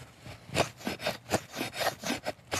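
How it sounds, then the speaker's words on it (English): A Cold Steel Hudson Bay tomahawk blade carves curls from wood in a steady run of about nine short, scraping shaves. The strokes come close and fairly loud, with no voices. "let's just see if we can carve a few curls or feathers with it"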